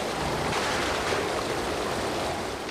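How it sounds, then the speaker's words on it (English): Hurricane storm surge waves hammer Topsail Island, a steady, dense roar of churning surf and rushing water that fills the whole stretch with no voices. "A deadly storm surge is hammering Topsail Island."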